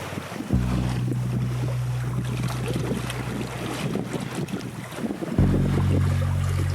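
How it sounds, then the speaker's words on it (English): Steady wind noise on a sailboat at night off Baja, Mexico, with a low motor-like drone at the start and end and broadband rushing air throughout, loud and continuous. "Wind finally came up enough to shut off the engine"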